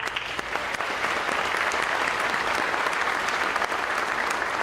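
A high school athletic awards ceremony audience gives steady, full applause for a medal recipient, dense and even throughout, coming from a sizable crowd in a large room.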